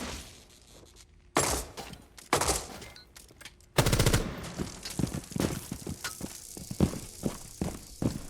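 R4C rifle gunfire in a video game comes as sharp, loud bursts of rapid shots separated by brief pauses, followed by scattered cracks, impacts and footstep-like clatter.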